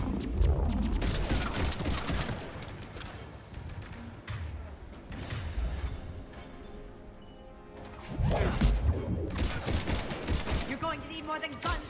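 Rapid gunfire bursts from Mass Effect 3 combat, dense volleys mixed with crashing impacts, loudest at the start and again near the end with a thinner stretch between.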